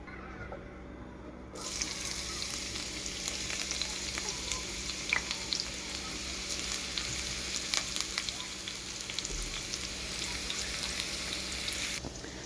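Onion frying in hot oil in a heated pan, a steady close sizzle that holds evenly throughout, with faint scraping and stirring noises over it.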